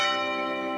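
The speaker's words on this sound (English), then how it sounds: "the school bell broke the silence." A school bell rings out alone in a quiet morning, one sustained metallic tone with rich ringing overtones that hangs steadily and clearly without any talk.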